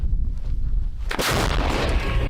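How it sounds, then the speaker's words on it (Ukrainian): After a quiet, low rumble, a single loud artillery gun blast booms close by, and its roar rolls on to the end. "Гармата!"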